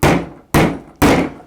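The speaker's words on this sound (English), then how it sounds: "and I take a hammer" Three sharp hammer blows tapping a screw to start it into wood, evenly spaced about half a second apart, each a loud close knock with a quick fading ring.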